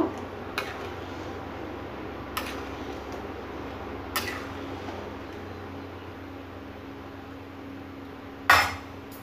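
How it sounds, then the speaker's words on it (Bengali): Vegetables and spices stirred in a cooking pan, with a low steady background hum, occasional sharp metal clinks of a utensil against the pan, and a louder scrape near the end. "এগুলোকে ভালো করে মিশিয়ে নেব।"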